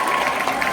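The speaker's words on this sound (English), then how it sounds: "They were clapping and cheering and having the times of their lives." A large Broadway audience at the Gershwin Theatre claps and cheers in a dense, steady wash of applause during a short burst.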